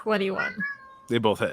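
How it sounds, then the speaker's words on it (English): A pet cat gives a single short meow between bursts of people talking during a tabletop role-playing game session. "That was my cat."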